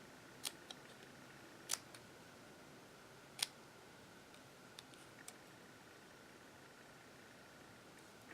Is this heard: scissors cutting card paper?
yes